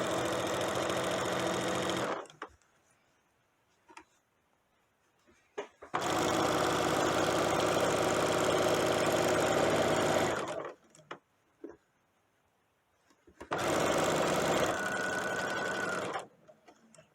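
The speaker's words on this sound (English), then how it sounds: "So I'm going to sew this to the edge, and it should move it nice and evenly to the edge." A sewing machine with a walking foot stitches along the edge of a table runner, running in three steady, loud bursts of motor hum with quiet pauses between them.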